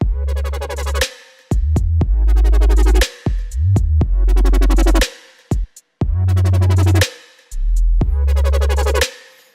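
Bright, chord-heavy synth stabs from Ableton's Analog synth in short chopped bursts with gaps between, loud and punchy, in a future bass style.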